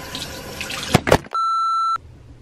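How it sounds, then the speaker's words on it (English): Warm water runs from a bathroom tap into a sink, a brief close splash and gush followed by a steady electronic beep, with no one speaking. "You want to use warm water to wash this off."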